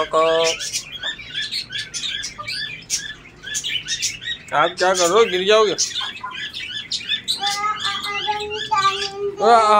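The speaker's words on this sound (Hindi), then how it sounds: "आपके तोते का बच्चा देखो बाहर आ गया" A pet parrot chick chirps in rapid high, whistly bursts, close and fairly loud, while a person talks over it.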